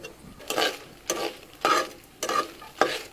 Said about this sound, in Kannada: ಇದು ಸ್ವಲ್ಪ ಫ್ರೈ ಆಗ್ತಿದ್ದ ಹಾಗೆಯೇ ಒಂದು 5ರಿಂದ 6 ಬ್ಯಾಡಗಿ ಮೆಣಸು ಹಾಕಿ ಚೆನ್ನಾಗಿ ಇದನ್ನು ಹುರ್ಕೊಳ್ಳುವ.